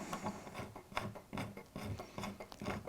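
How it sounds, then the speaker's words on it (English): A small drill bores holes in the wooden sleepers of model railway track, making quiet, rasping bursts that start and stop in a loose rhythm. "And drill a couple of holes"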